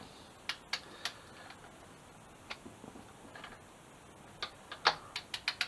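A torque wrench tightening bolts on a 2007 Suzuki GSX-R 750 motorcycle, faint ratcheting ticks in short bursts, followed by a couple of sharper clicks near the end, quiet and close with no talk.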